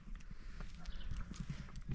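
Horse hooves clip-clop at a walk on a rural stable yard with a stallion, mares and a foal, a steady uneven rhythm of fairly close thuds under faint background sound.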